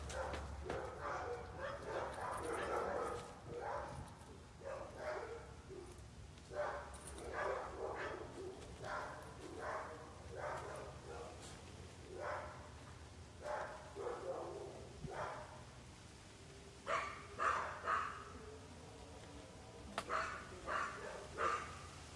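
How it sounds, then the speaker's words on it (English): A dog barks repeatedly in short bursts, fairly close, with a few higher yelps toward the end and faint background noise. "He hears all that barking."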